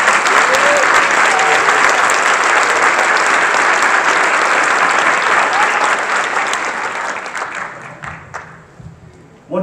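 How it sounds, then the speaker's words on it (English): Loud, dense applause from a school board meeting audience honoring student musicians, a sustained wash of clapping that thins and tapers off near the end, with a few voices faintly underneath. "How about another round of applause for all of our outstanding student musicians?"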